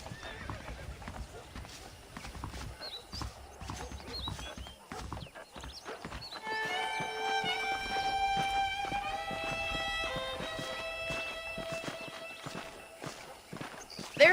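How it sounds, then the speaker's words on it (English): In the video game Red Dead Redemption, hooves clip-clop at a walking pace with a horse whinnying, alongside talk and a bright, sustained musical score that swells in halfway through. "The horses are saddled up over here."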